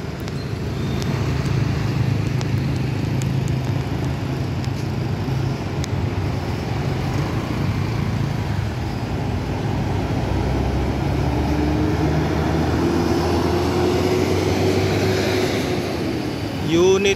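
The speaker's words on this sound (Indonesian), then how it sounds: "ada 2 unit bus yang melintas" Two buses pass at night, one of them a new Armada Indah unit, making a loud steady roadside rumble of engines and tyres that swells and slowly changes pitch as they go by.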